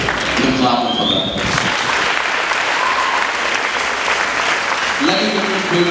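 Church congregation clapping steadily throughout, dense sustained applause with voices mixed in and brief shouts over it.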